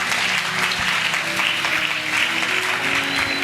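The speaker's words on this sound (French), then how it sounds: "Acclamons la parole de Dieu." A church congregation applauds steadily during a Sunday worship service, a dense, continuous clapping of many hands that fills the room at a loud, even level throughout.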